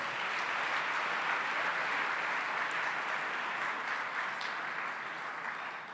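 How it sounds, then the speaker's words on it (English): Sustained applause from an audience at a Rwanda Day gathering in San Francisco, a steady dense wash of clapping that holds level throughout and eases slightly at the end. "Let's give Pastor Warren another round of applause."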